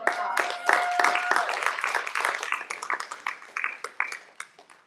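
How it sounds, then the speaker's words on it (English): An audience at a talk in a series on the twelve powers claps for a speaker, with scattered sharp hand claps that start fairly full and thin out into separate claps as it fades. "Let's give her another round of applause."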